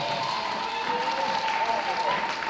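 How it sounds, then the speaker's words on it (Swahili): Church congregation clapping during a Swahili sermon and worship, a dense continuous wash of many hands with a preacher's voice running over it. "piga makofi kwa Yesu"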